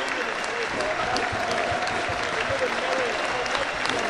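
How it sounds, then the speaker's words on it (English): Applause from a stand of football fans at a Gateshead v Hartlepool match ripples steadily and broadly through the ground, a dense, sustained wash of clapping with a commentator's voice running over it. "leaves to a round of applause from the Tynemere stand"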